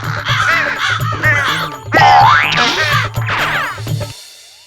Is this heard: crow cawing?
yes